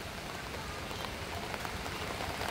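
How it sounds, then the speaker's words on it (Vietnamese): Heavy rain pours steadily in rural Vietnam, a constant dense hiss of drops hitting surfaces with no pauses, fairly close and unbroken throughout. "Mưa hết sức lớn luôn."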